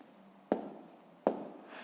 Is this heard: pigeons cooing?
no